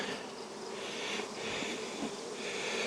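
Honeybees buzz around a nuc hive in a soft, continuous hum that swells slightly and fades, with no talking.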